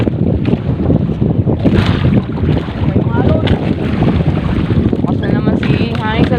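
Strong wind buffets the microphone on a fishing boat at sea, a loud continuous rushing roar with water sounds and voices talking underneath.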